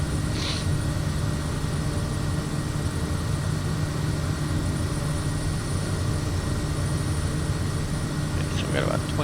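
A single-engine turboprop SWS Kodiak 100 droning steadily in cruise in the flight simulator MSFS 2024, a constant loud engine hum filling the background while a person talks over it.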